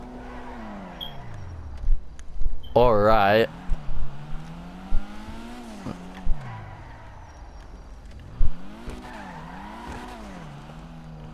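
A Weeny Issi rally car in GTA 5 revs, brakes and skids with squealing tires in short bursts, engine note rising and falling, while someone talks over it.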